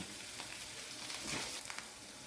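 Onion sizzles briskly in hot oil in a pan with ginger-garlic paste and green chillies just added, a close, steady crackle and hiss with small pops.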